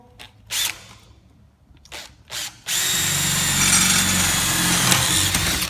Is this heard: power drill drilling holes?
yes